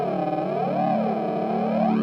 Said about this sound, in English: it adds subharmonics and it makes these spacey weird sounds